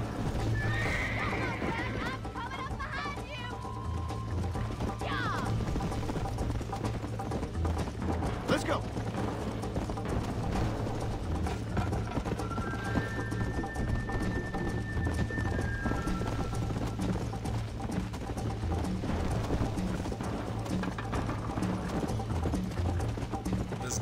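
Horse galloping and neighing in the video game Red Dead Redemption, clip-clop hoofbeats running steadily with whinnies and mechanical game sounds, while players talk over it.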